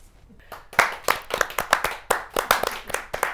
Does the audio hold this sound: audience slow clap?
yes